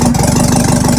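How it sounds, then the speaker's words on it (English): A classic Mini engine that sat for 20 years runs on a test setup with choke applied, a loud, close, rough throb with a fast, steady pulsing beat for about a second. "Here is our engine, and we're all set up. I'm going to put 12 volts on the coil and give it a little bit of choke"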